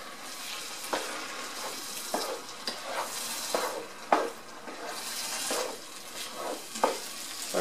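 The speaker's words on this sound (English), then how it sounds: "We're just simmering, and the tomato juice is absorbed by the rice." Spanish rice with bacon, green peppers and tomato juice simmering in a pan, giving a steady soft sizzle broken by several stirring scrapes and clinks, with no voices.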